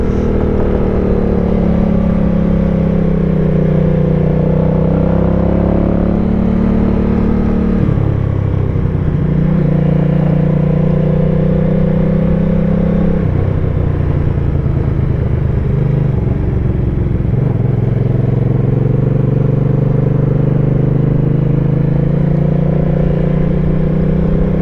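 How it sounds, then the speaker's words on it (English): Hyosung GV250 motorcycle engine with a throaty gurgle, a loud continuous droning rumble that rises and falls through several shifts in revs, steady throughout with no talking. "it's got this really nice throaty gurgle in the four and a half to five thousand RPM range"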